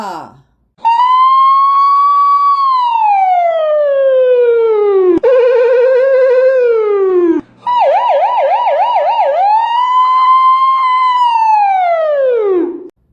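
A voice imitating a siren, with long rising and falling wails and a quick warbling section, loud and close.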